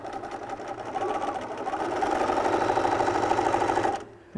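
A sewing machine back stitching the seam of a beach towel bag runs in one steady, close burst of about four seconds, then stops abruptly.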